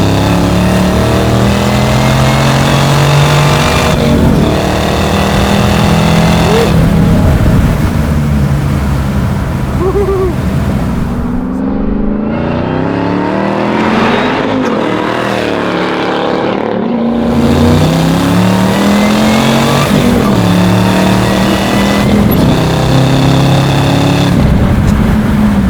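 A supercharged 650 hp LT4-swapped 1968 Camaro restomod with a six-speed accelerates hard, its loud engine roaring and rising through gears with tire chirps in third, a brief lull midway before the pull resumes.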